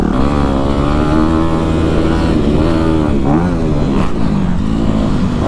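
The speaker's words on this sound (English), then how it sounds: "Today, I'm riding a 2020 Honda CRF" A 2020 Honda CRF 250RX dirt bike on a motocross track, its engine buzzing loud and close, a steady high-pitched drone rising and falling in pitch as the throttle opens and eases.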